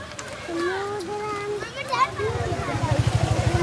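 Someone jumps into floodwater beside houses in Dighati village near Kelwane during monsoon flooding, making a sudden splash midway. Children chatter and shout throughout, and choppy water sloshing follows the splash.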